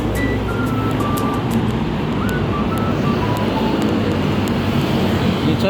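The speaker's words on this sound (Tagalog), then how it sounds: "Walang tigil ang sasakyan." Steady traffic on EDSA at night, a continuous low rumble of many vehicles with occasional horn-like tones and wind buffeting the microphone, sustained and fairly loud with no break.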